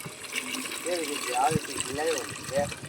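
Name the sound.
water flowing in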